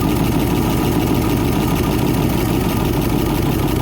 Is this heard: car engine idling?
yes